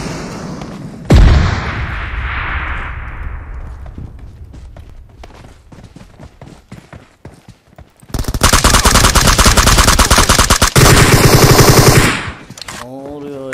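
Gunfire in the mobile battle-royale game PUBG Mobile: a loud close shot, then scattered distant cracks and footsteps, followed by a long sustained burst of rapid automatic fire; brief voice fragments come through.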